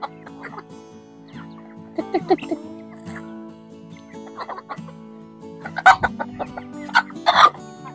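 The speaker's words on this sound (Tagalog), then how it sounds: "Dami kong manok po mga kababayan, no?" Chickens cluck and squawk in short bursts at close range, busiest near the end, with a low steady hum underneath.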